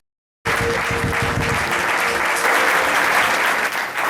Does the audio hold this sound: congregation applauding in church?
yes